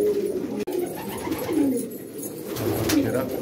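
White bar pigeon in a Karachi breeding loft cooing in repeated low, throaty rolling phrases, close and steady, with a soft click partway through and no talk.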